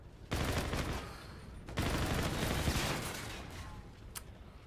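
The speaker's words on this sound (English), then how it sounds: "These assault rifles, man, they're destroying me." Assault rifle fire in a Call of Duty: Infinite Warfare multiplayer match: a loud sustained burst, a brief gap, then a second long burst that fades, with a sharp click near the end.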